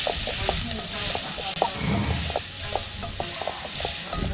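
Squash and zucchini sauté in melted butter, giving a close, continuous sizzle. A spoon or spatula scrapes and taps against the pan in a roughly regular rhythm of stirs.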